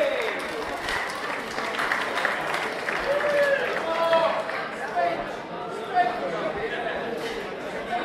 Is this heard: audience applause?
yes